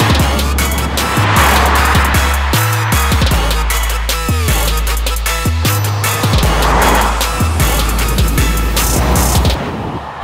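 An Audi RS e-tron GT Performance electric car drives along with a loud, continuous rush of road and tire noise and a steady low motor drone that shifts in intensity over about ten seconds.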